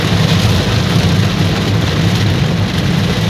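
Heavy monsoon rain in Surat pours as a loud, dense and continuous hiss and patter, steady throughout with no voices.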